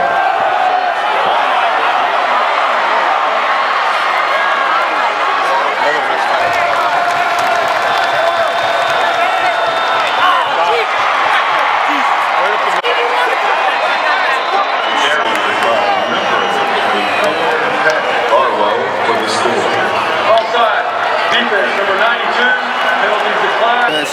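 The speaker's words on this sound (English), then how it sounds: "a lot of fans here cheering" A college football stadium crowd at a Temple vs Boston College game keeps up a steady cheering roar for the whole stretch, with a person talking close over it.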